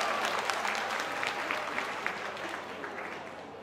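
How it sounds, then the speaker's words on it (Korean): An audience at a song festival award ceremony applauds a bronze prize winner with a sustained wash of clapping, slightly distant and gradually tapering off, with a faint hint of speech underneath. "여러분 큰 박수 부탁드리겠습니다"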